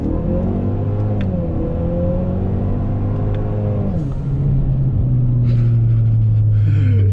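A 2017 Ford Fusion engine revs hard while accelerating, its loud, close drone climbing in pitch, dipping briefly at a shift around the midpoint, then rising again with a steady rumble underneath.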